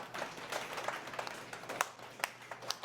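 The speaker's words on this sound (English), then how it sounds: "Big thunder claps." An audience at a live music performance claps in loud, scattered bursts, with sharp irregular hand claps spread across the room over a few seconds, no talking.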